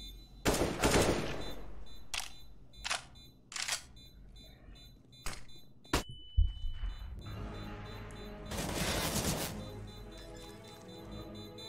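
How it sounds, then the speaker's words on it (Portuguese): Desert Eagle pistol fire in an online shooter game, several sharp separate shots and short bursts spaced unevenly, with a louder crackling stretch near the end. "Nossa, eu dei tiro de eagle nele."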